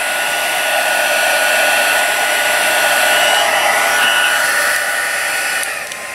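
A heat embossing tool blows hot air in a loud, steady, hair-dryer-like whoosh close to the microphone, easing off slightly near the end.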